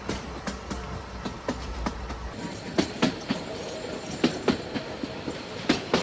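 A 110-year-old narrow gauge heritage train running between Bilimora and Waghai in Gujarat, heard from inside a coach with wooden seats: a steady rumble with repeated sharp clickety-clack wheel beats over rail joints, a deep low drone fading early on.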